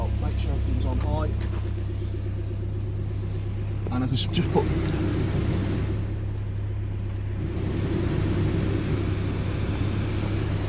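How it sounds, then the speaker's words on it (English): A car engine idles steadily in freezing winter weather as it warms up, a constant low rumble running throughout, with a person talking over it near the start. "I am going to just leave the engine running"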